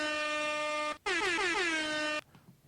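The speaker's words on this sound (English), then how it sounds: "Here's what the air horn sounds like for people on YouTube." An air horn blares in two loud sustained blasts, a short gap between them, the second sliding in pitch before cutting off.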